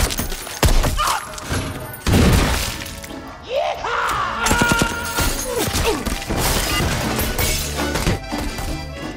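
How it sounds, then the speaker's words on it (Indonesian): Rapid bursts of gunfire and heavy impacts crackle through a mafia shootout in an action film, with loud cracks and thuds layered over a busy, dense mix and some voices underneath. "si bos mafia marah hingga aksi tembak-tembakan pun terjadi."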